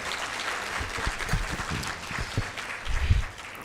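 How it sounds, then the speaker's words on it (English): Audience applause at a formal Rwanda–Sweden research cooperation event, a steady wash of clapping from a large hall with some louder bursts near the end, heard at moderate distance. "Give another round of applause for this event"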